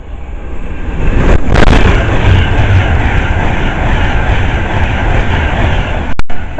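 An Avanti West Coast Class 390 train bound for London Euston roars through Harrow & Wealdstone station, a loud, sustained broadband rush with rail noise that holds steady throughout and ends in a couple of sharp clicks.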